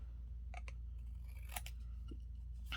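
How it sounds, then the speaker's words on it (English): Scissors snipping and trimming a piece of fresh ginger, several faint crisp cuts at irregular intervals over a steady low hum, with no talking. "I simply take my scissors"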